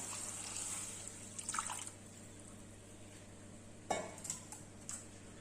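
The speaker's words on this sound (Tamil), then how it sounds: "தண்ணி 3 டம்ளர் ஊற்றுறேன்." Water poured from tumblers into a pot of rice and split urad dal in a home kitchen, soft splashing bursts in a few separate pours over a steady low background hum.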